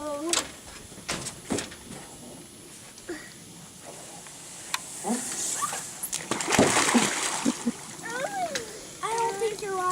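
A boy jumps into a cold backyard swimming pool with a brief splash, set among children's voices and someone talking nearby.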